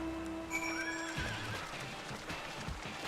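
A horse in the video game Final Fantasy XIV neighs once in a falling whinny, then hooves clip-clop softly, all fairly faint behind background game sound.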